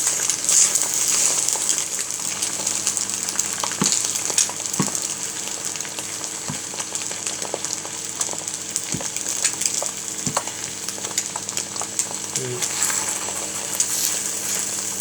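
Spicy noodles fry in butter in a pan with a steady hiss and sizzle, broken by occasional soft taps and scrapes from a spatula.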